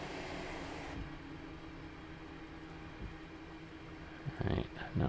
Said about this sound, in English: Fellow train going the other way.